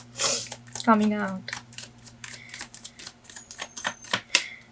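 Rapid, crisp riffling of tarot cards being shuffled, with dense clicking bursts throughout and a short voiced sound near the start.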